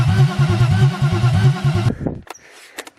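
BMW E36 M50B25 straight-six cranking in a steady rhythmic starter churn, loud and close for nearly two seconds, then cutting off abruptly into near quiet with a few faint clicks and knocks.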